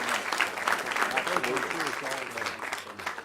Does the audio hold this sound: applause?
yes